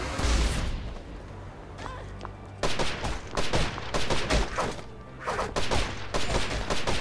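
Rapid bursts of gunfire from the online shooter Archeblade, loud sharp shots in quick clusters with short pauses between volleys, sounding close and dense across the whole stretch.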